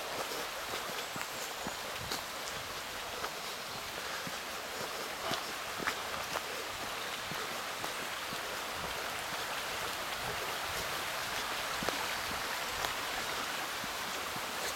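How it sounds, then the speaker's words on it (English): A river in an Irish glen flows at night, a steady broadband rush that stays even and unbroken, with faint footsteps crunching on a path over it. "Still hear the river though."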